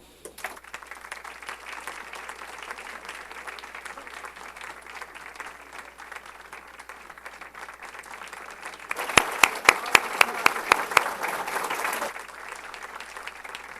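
Steady applause from an audience at a book launch event in São Paulo for journalist Dermi Azevedo, with dense clapping that swells louder near the end, including a few sharp individual claps.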